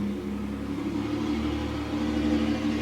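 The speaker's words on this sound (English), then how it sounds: "Truck." A truck rumbling by at a steady level, a continuous low engine drone with a hum throughout and no voices.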